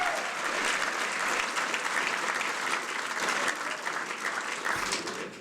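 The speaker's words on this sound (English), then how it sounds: "I want more applause than that" A gala audience at a global education event breaks into sustained, dense applause, many hands clapping steadily at a fairly far, roomy distance, with no talk on top and a slight fade near the end.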